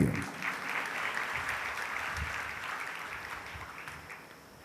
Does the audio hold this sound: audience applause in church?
yes